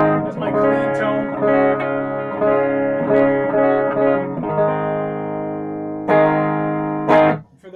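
Electric guitar playing a clean tone through a stock Fender Excelsior 13-watt tube amp with 6V6 tubes, ringing strummed chords and sustained notes with slight reverb, played alone and ending with a brief scrape.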